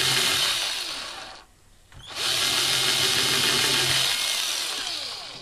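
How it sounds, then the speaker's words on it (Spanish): An electric drill bores holes in a circuit board for a simple capacitor ESR tester build, a loud steady whine that dips briefly and then spins back up, heard alone without speech. "sujetando el taladro y realizando los agujeros"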